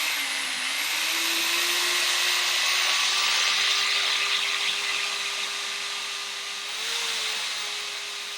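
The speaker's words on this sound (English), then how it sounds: "Don't be bashful. Get a hand drill." A steady high motor whine runs throughout, like a small electric drill spinning continuously at close range with no talking, drilling a part of a 1/48 scale model tugboat.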